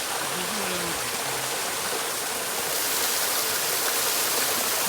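Steady rushing water from a waterfall in the Grand Canyon, a broad constant roar with brief faint voices near the start.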